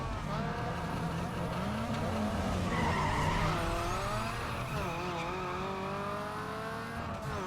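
Tires squeal as a Pontiac GTO race car skids in Need for Speed Underground 2, with a shrill whine over a steady engine drone that bends in pitch through the slides and no voices.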